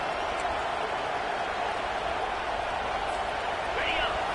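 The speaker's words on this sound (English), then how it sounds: "the crowd really making some noise now, trying to help out this defense to get this stop near the goal line" A large football stadium crowd roars in a sustained, dense wash of cheering as the defense tries for a goal-line stop. The noise stays steady and distant-sounding throughout.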